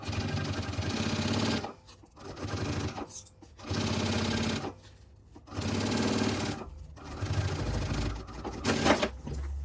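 A sewing machine stitches fabric for a small expandable zip pouch, running in four loud bursts of steady whirring separated by short pauses.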